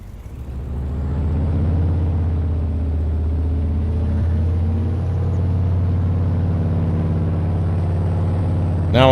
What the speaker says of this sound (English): I don't think we own a truck that's got a good muffler on it. Everything we own is loud as loud can be.